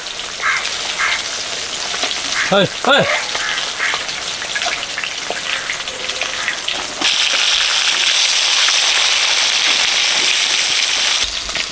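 Fish frying in a pan in a home kitchen: a loud, steady broadband sizzle that runs throughout, growing denser after about seven seconds, with a few brief chirpy sounds early on.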